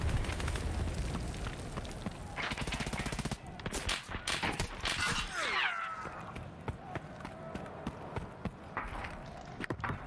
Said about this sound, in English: Nade's coming in close to Vibin